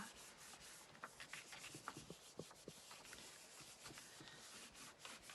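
Copy paper rubbed by hand over a large rubber stamp to transfer ink for a Valentine card, a soft continuous close scrubbing with small irregular squeaks and taps, quiet and alone.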